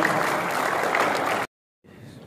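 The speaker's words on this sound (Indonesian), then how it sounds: "Tepuk tangan semua buat." Crowd applause at a SOKSI Papua regional assembly, a dense sustained wash of clapping that stops abruptly, followed after a short silence by a fainter, quieter return of crowd noise.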